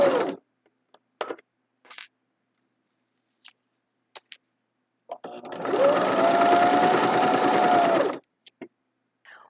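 A home sewing machine hems a t-shirt, giving a steady, loud whirring run of about three seconds, with scattered short clicks and taps before and after.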